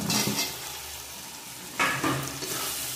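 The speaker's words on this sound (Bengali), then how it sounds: "এখন সিদ্ধ করা ইঁচড়গুলো দিয়ে দেবো।" Boiled green jackfruit tipped into a pan of sizzling chicken masala, a steady close fry with a loud burst of crackling and stirring about halfway through.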